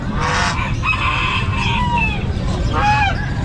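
Rooster crowing and clucking at a pet market in Bocaue, Philippines, several drawn-out calls rising and falling over a steady low background rumble, fairly close and loud.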